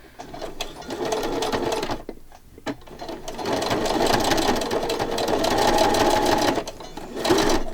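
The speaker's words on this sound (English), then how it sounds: "We'll start out with a straight stitch, and if that does not work, we'll change it." Sewing machine running a straight stitch through fabric, a steady close mechanical whir and rapid needle clatter with a brief slowdown midway, loud and continuous.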